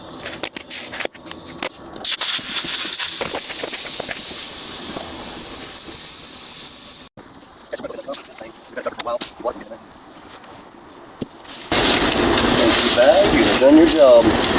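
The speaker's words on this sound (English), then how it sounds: "We're gonna get a little bit of air in this tire." Compressed air hisses into a tire on a 1969 Ford F100 truck, coming in bursts with pauses and shuffling noises between them, then a louder steady rush of air near the end.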